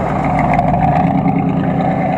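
An HPI RS4 RC car tearing down a street at high speed, its motor a loud steady whine and roar held close throughout, with no pause or fade.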